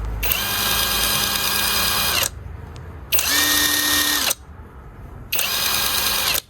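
A cheap cordless brushless impact wrench runs unloaded in three bursts of about two seconds each, a loud, close, steady motor whine that stops dead between runs, with no talking.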